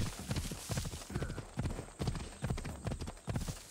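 Rhythmic horse hooves clip-clopping at a steady trot in the video game Assassin's Creed Odyssey, close and clear, with no talking.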